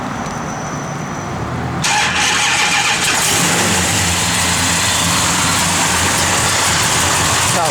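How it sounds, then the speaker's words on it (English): A 1969 Dodge Coronet convertible's engine cranks and fires at about two seconds, then settles into a loud, steady, close-up running rumble with no talking. "when you first start this car, it says heating. After that, you just got to wait for that to go away, and then you can start it."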